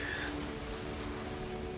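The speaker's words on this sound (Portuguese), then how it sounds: "Chuva grossa, ai meu Deus." Heavy, superheated rain falls in the video game No Man's Sky as a dense, steady patter and hiss, with a thin electronic tone humming faintly underneath.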